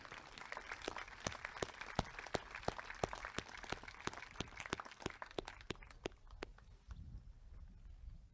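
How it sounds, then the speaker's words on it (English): A small, distant audience claps at a 2020 North Miami graduation ceremony, faint and steady with sparse individual claps that thin out toward the end. "Another round of applause for Zoe Manuel."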